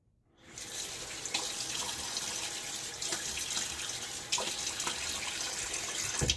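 Tap water runs steadily into a sink while a Blackland Dart safety razor is rinsed; a constant, close hiss of flowing water continues alone with small splashy variations throughout.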